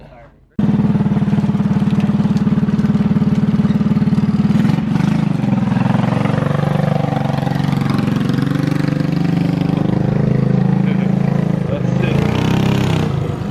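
A homemade go-kart engine drives past, a loud steady mid-pitched motor drone that sustains for several seconds with slight shifts in pitch. Voices are heard over it.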